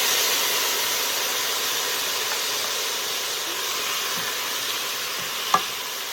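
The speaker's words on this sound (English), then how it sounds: "It's sizzling." A steady, loud sizzling hiss fills the whole stretch as white distilled vinegar crackles in a hot pot without letup, with one sharp little tick near the end.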